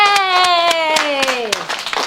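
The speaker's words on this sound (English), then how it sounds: "Let's stand and give them a big round of applause" A voice cheers a long, falling 'yay' over a scattering of handclaps as a small classroom-style group applauds two winners; the claps are sharp and fairly close.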